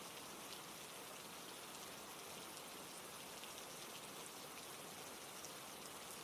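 Steady rain falls through the night, a dense, unbroken hiss of drops on surfaces that stays even and close throughout, with no voices.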